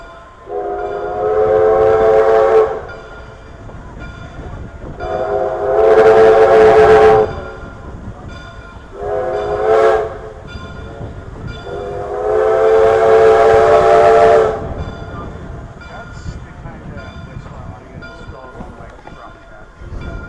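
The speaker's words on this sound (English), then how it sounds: "Here comes the whistle." A steam locomotive whistle on a Kettle Valley Steam Railway excursion train blows four times, long blasts with a short one between, loud and near over a background of running train noise.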